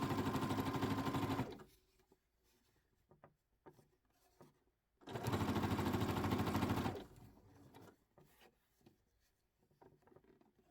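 A sewing machine stitches bias tape onto the edge of an upcycled puffer vest in two steady runs of close, even motor whirring, each lasting a couple of seconds, separated by quiet handling and rustling of fabric.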